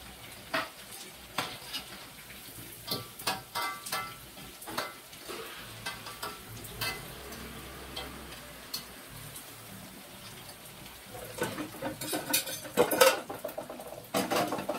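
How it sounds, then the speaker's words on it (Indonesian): Sambal chili paste frying in a pan while a spatula repeatedly scrapes and clanks against the metal, irregular knocks and stirring strokes over a steady sizzle, busiest toward the end. "terus menggoreng sambalnya"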